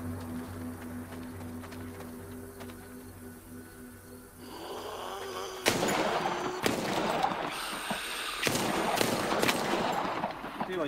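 Pistol and SMG gunfire in the VR shooter Arizona Sunshine, a string of sharp close shots and bursts starting midway through and continuing to the end after a quieter droning opening.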